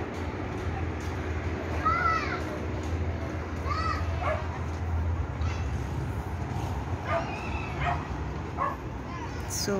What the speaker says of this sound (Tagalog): Ingay ng mga bata.